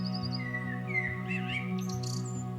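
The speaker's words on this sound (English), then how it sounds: "So when you hear the songs of birds" Several birds sing and chirp close by, with high, bright tweets and short trilling calls over a faint low hum in a quiet setting.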